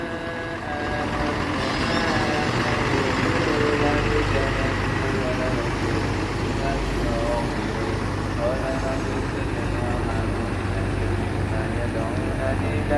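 Tombo Ati intercity bus cruising out of Malang toward Banyuwangi, a loud, steady engine and road rumble filling the cabin throughout, with a voice talking over it.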